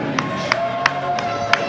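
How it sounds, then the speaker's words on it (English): A wrestling crowd at a No DQ match cheers steadily in a continuous roar, with a few sharp claps and whistles popping out at regular intervals. "You would applaud him."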